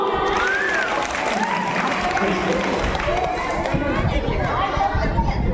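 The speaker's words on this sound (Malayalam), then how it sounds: "ഒന്ന് ക്ലാപ്പ് ചെയ്യാമോ" A church team-visit audience claps and chatters together, with applause mixing into lively crowd voices and cheering across the whole stretch, moderately loud and under ongoing talk.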